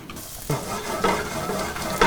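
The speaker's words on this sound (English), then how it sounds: "So I'm going to lightly brown the butter, not overdo it." Butter with crushed red pepper flakes sizzles and lightly browns in a pan, a close, steady crackling hiss punctuated by a few sharp stirring clinks and scrapes, with no voices.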